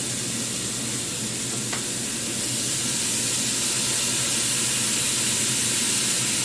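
Chicken stir fry sears in a hot pan, a loud, continuous close sizzle and hiss that swells slightly, with no talking.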